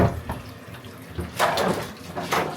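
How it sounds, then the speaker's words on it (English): Water runs from a tap to fill a toddler's bath, a soft, steady splashing with a few brighter gushes. The sound is fairly quiet and stays fairly even, with no talk. "So I just get the water started for him."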